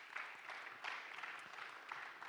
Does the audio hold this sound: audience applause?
yes